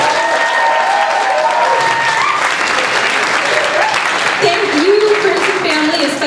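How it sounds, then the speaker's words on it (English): A school Christmas choir concert audience gives sustained, loud applause with some cheering, continuous clapping throughout, with voices rising above the crowd. "Let's give it up for Ms. Reynolds."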